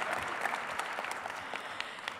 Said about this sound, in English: give all our award winners for social sciences another round of applause